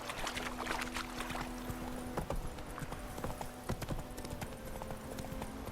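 Horse hooves clip-clop steadily on the ground in The Witcher 3: Wild Hunt, a brisk, even trotting rhythm over soft ambient game sound, with a faint hum of background music.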